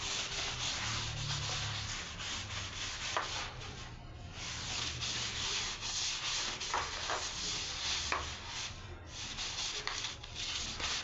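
Steady, close scrubbing to remove black stains, a continuous rough rubbing that runs unbroken for several seconds with no one talking.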